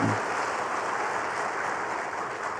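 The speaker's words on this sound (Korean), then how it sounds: "오늘 우리 참모찬양 찬양 잘했죠? 박수 한번 쳐주세요" Applause from a church congregation for the praise team during a Sunday service, a dense, steady patter of clapping that fills the room throughout.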